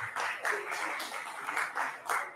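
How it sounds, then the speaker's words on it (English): Faint, scattered audience clapping at a political talk in Jamaica, with soft pulsing bursts of hands over a couple of seconds, distant and low in level. "Yes, you can clap for that."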